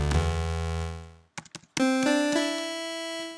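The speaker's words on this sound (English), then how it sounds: "And we've got a square wave, which sounds like this." A hollow, reedy analog synthesizer square wave tone drones, a few clicks follow, then a second buzzy note sounds and holds steadily to the end.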